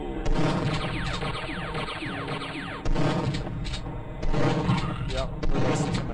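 Rapid gunfire from Duke Nukem 3D rattles loudly and continuously over a dense game soundscape, with heavier booming bursts landing every couple of seconds while a voice talks throughout.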